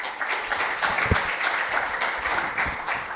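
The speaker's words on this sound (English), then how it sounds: "let's give a round of applause for Maarten." An audience at the AusCERT 2019 cybersecurity conference applauds as a speaker is introduced, giving moderate, fairly even clapping with a single sharper knock or thump partway through.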